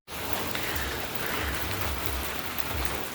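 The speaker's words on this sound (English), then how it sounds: "And of course, it's pouring down rain." Pouring rain on a roadside at night beside a motorcycle, a dense, loud, continuous hiss of heavy drops hitting surfaces close by, with no talk.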